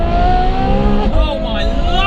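A loud Ferrari F12 with an aftermarket IPE exhaust roars and burbles with a throaty exhaust, pitch shifting as it revs, close by with no speech.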